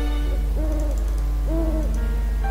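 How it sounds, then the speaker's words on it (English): Owl hooting in the video game Heroine's Quest, set in a snowy winter forest at night: two clear, spaced hoots over a steady low background hum, moderately loud and alone without speech. "Tis an owl!"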